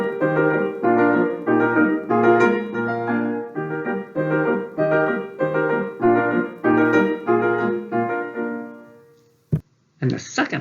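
Beethoven's first Écossaise, WoO 83, played on piano as an easy pedagogical piece, with a steady, bouncy rhythm of repeated chords and bright melody running for about nine seconds before stopping, followed by a brief noise.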